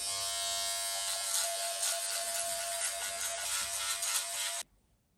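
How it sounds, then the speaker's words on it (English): Electric hair clippers and a foil head shaver trimming the edges of head hair, a close, steady high-pitched buzzing motor hum that stops abruptly near the end, leaving near silence. "Now I'm just using these clippers and the foil shaver to trim up the edges"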